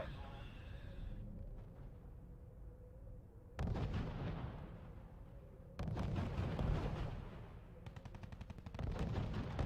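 Gunfire and artillery in the wartime strategy game R.U.S.E: dense bursts of shots and heavy booming blasts come in loud waves between quieter stretches of distant rumble, with a voice briefly heard among them.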